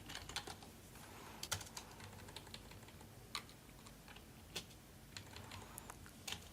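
Typing on a computer keyboard while working on a Microsoft Access form, quiet, close key clicks in irregular bursts with a few sharper taps, alone without talk.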